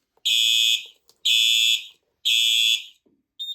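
A Simplex 4007ES fire alarm panel sounds three loud, evenly spaced electronic tones, each about a second long, then starts a fourth.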